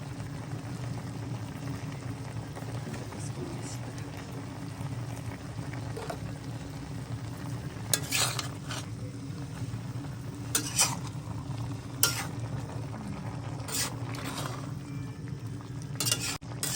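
Chicken curry simmering in a covered pot on a home stove: a steady low bubbling runs throughout, with a few short scraping and clinking stirs at moments, close by and with no talk.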